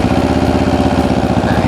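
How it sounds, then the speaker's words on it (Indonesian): QJ Motor Tourino 700 SX adventure motorcycle engine idling close up, a loud, steady, throbbing low rumble with an even pulsing rhythm throughout. "sekarang gue pengen kasih tahu nih, suara dari Torino 700 SX."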